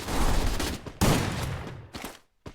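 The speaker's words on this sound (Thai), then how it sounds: "เอ้ามีคนยิงกันครับ" In the Free Fire video game, loud, dense gunfire rolls out in a long crackling burst, then a second volley, ending with short separate shots and brief gaps.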